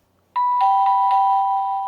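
A bright electronic chime from an X-Sense smart temperature and humidity monitor base unit rings out suddenly, repeating a few quick doorbell-like notes that sustain and ring on, clear and close in a quiet room.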